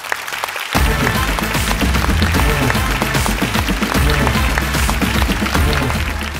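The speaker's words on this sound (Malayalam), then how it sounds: "അപ്പൊ അമ്മയ്ക്ക് വേണ്ടി എല്ലാരും ഹൃദയം കൊണ്ടുള്ള ഒരു കൈയടി." Studio audience at a Malayalam television comedy show applauds for a mother, a dense wash of clapping that starts abruptly after a brief quiet moment and holds steady with music running underneath.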